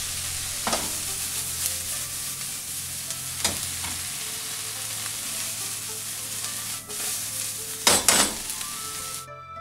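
Onions fry in oil in a pressure cooker during a pot roast, giving a steady close sizzle broken by a few sharp scrapes and knocks of stirring and utensils against the pot.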